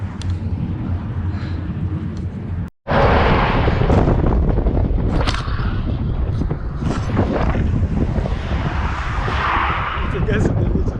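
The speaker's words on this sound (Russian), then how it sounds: "Нифига себе ветер." Strong wind roars and buffets the microphone in the Egyptian desert while cycling, a loud, continuous blustery rush broken only by one brief drop, with no voices.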